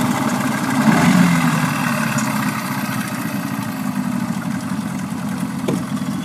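Boat motor idling after sitting unused for a year, a steady low rumbling drone with slight vibration, heard up close and fairly constant throughout, without talk.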